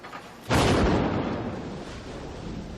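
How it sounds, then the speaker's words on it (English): A bomb detonates in a military test, opening with a sudden loud blast. A long, rumbling roar follows and slowly fades away, with no voices. "This film of a military test shows what happens during an explosion."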